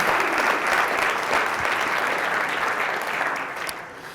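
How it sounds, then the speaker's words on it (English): A seminar audience breaks into loud, dense applause that holds steady, then begins to thin and fade toward the end. "I'd like to hear a round of applause to everybody that's here"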